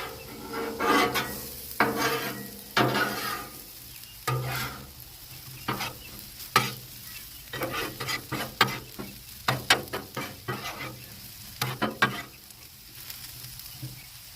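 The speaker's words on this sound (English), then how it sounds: "We're going to go ahead and take the onions now and we'll mix the onions in." Onions being mixed into potatoes on a Blackstone griddle, a run of repeated metal spatula scrapes and clanks over a constant sizzle, close and fairly loud, coming in uneven bursts with no talking.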